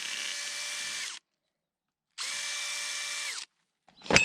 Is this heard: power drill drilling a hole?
yes